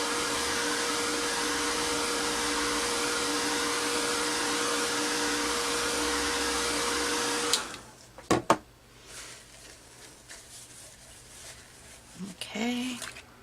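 A heat tool whirs loudly and steadily while drying gesso on a Halloween treat bag craft project, then cuts off, leaving quiet handling clicks and rustles.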